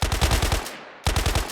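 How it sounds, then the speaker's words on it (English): Rapid bursts of gunfire, like a machine gun, used as a sound effect in a scary story, with a loud volley, a brief near-silent gap, then another burst of rattling shots. "I heard what sounded like a cacophony of gunshots"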